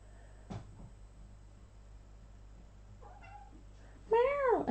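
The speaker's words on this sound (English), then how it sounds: "And also a little kitty." A small house cat gives one loud, close, drawn-out meow at the end, following a quiet stretch with a soft thump and a faint chirp earlier.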